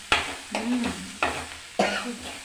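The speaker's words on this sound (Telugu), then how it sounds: "కొంచెం అన్నా ఫ్రై కావాలి కదా మమ్మీ." A snack frying in a pan with four sharp stirring scrapes at a steady pace, each followed by a brief sizzle, close and clear with no voices.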